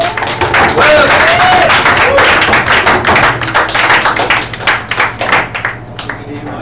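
A café audience at an open mic night claps and cheers for a performer, dense overlapping applause near and loud that thins toward the end, with voices calling out over it.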